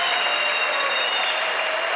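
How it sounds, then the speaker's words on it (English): A large crowd cheers and applauds at a ski jumping event: a steady, dense roar of clapping and shouting across the whole span, with no pause. "Well, the Germans cheering for the Dutchman."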